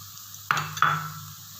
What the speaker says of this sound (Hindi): ये हमने इसको फ्राई कर लिया है। अब हम इसमें मसाले डालते हैं।